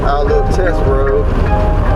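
An old 1982 Nissan 720 King Cab pickup truck, abandoned for years, on a test drive down a road, with a steady loud rumble of engine and road noise and heavy wind buffeting throughout, up close from inside the cab.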